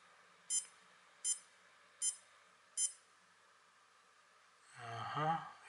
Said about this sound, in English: This is obviously alarm.